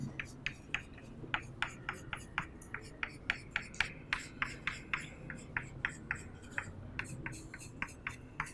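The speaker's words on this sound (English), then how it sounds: "meanwhile I am going to draw the diagram" Chalk tapping and scraping on a board while a crystal lattice diagram is drawn in a solid-state lecture, a steady run of short, sharp strokes in quick rhythm over a low room hum, close and fairly loud.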